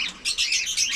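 A pet bird gives quick, bright chirps in short bursts, close and fairly clear, with no voices in between.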